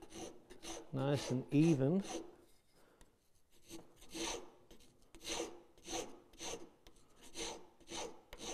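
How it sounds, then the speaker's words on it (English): A small detail rasp filing wood while cleaning up inside a cam clamp, giving a series of short, even rasping strokes at close range, with a brief burst of talk near the start. "I'm going to go with a smaller detail rasp here just to clean up inside there"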